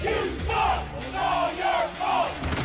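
A sports crowd cheers and yells in loud swelling waves, voices rising and falling together as if chanting or roaring.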